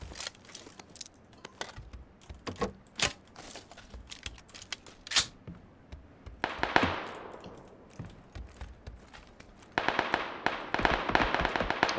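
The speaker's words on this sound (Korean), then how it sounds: "근처에 총소리 막 난다." Gunfire crackles nearby in PUBG, sharp bursts of shots and pops scattered over several seconds, mixed with rapid keyboard clatter and clicks from play close to the mic.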